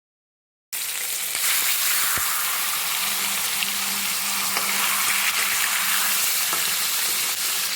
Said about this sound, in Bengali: তেল গরম হয়ে গিয়েছে, আমি এখন এর মধ্যে মাছ ছেড়ে দেব আর ভেজে নেব।